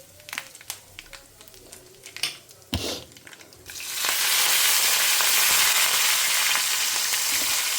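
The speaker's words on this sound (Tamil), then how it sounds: "கடுகு பொரிய ஆரம்பிச்செடுத்து பெருங்காயம் போட்டுக்கலாம்" Mustard and fenugreek seeds splutter in hot oil, with a few sharp pops and clatters before the sizzle swells into a loud, steady, close crackle that fills the second half.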